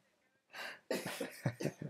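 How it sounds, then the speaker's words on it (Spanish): A short series of soft coughs from a woman, several quick bursts in a row, faint and somewhat distant. "tengo ahí a mi mujer pachucha está tosiendo ahí"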